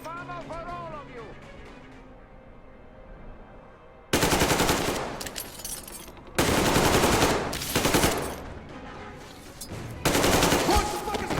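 Bursts of automatic machine-gun fire from the video game Metro Exodus, in Sam's Story DLC, come in three loud, sustained volleys separated by short pauses, with shouting voices mixed in.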